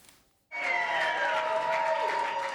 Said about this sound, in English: The former president is greeted with cheers and applause in the lobby of Trump Tower in Manhattan.